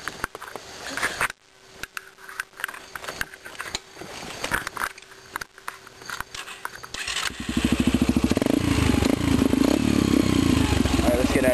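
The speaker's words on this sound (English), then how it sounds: "I'm gonna get ready to start my bike up" A motorcycle engine starts up after clicking and mechanical handling, then settles into a loud, steady idle that fills the last few seconds, with people talking nearby at the start.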